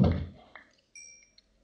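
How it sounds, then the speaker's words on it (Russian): A cow being hit in the video game Minecraft: a soft thud at the start, then a short muffled knock and a faint tonal in-game chime, all brief and quiet with no speech. "Коровку бью на мяско."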